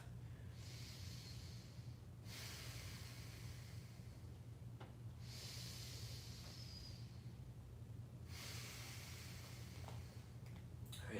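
Forceful rhythmic yoga breaths in a mindful flow class, three long rushing exhales of about two seconds each with short gaps between, close and loud over a steady low hum.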